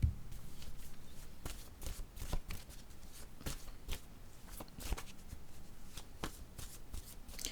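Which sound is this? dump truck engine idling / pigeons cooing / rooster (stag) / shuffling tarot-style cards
shuffling tarot-style cards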